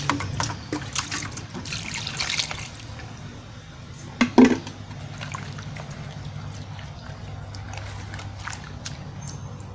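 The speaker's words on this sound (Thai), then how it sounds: "ในถังนี้ก็น่าจะประมาณ 3 ลิตร 3 ลิตร ใส่ลงไปให้หมดเลย" About three liters of rice-washing water poured into a bucket, a moderate close trickling and splashing stream that runs through the clip, with a brief louder splash midway.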